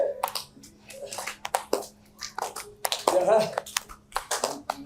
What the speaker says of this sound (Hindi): हम तो ताली बजा रहे हैं